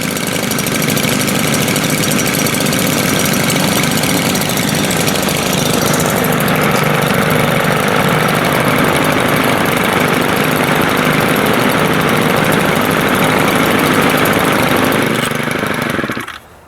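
Three gas-powered weed wackers idle together after a cold start, a loud, steady, close buzzing drone of small two-stroke engines running throughout before abruptly cutting out at the end.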